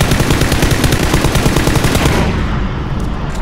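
Loud, close bursts of rapid automatic gunfire, shots tightly packed in a fast continuous rattle that stops abruptly after a few seconds, leaving a quieter tail.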